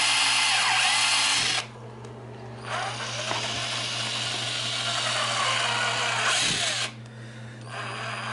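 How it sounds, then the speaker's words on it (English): An electric drill used as a cookie dough mixer whirs loudly in long bursts, its pitch dipping under load, with two brief pauses where it drops to a quieter hum. "inventing new cooking utensils like the drill, which is completely ineffective"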